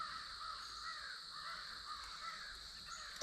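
Crows caw outdoors at a work site during telehandler repairs, a steady run of calls that stays fairly distant and even in loudness for the whole stretch, with no talking.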